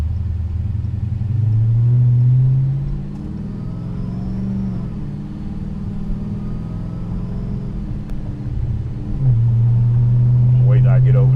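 A 1200+ hp Dodge Hellcat engine rumbles loud and close, swelling in two strong pushes of acceleration separated by a softer stretch of steady running, with talk over it.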